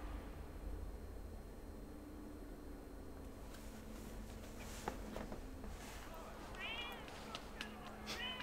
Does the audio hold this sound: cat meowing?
yes